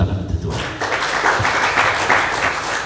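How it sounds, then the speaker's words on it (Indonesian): Applause breaks out among a church congregation during a sermon, a dense wash of many hands clapping that rises quickly after a brief voice and carries on steadily to the end. "Kasih tepuk tangan untuk Tuhan."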